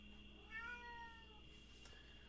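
A house cat lets out a single drawn-out meow, faint and somewhat distant in a quiet indoor room, with a steady background hum and no talking.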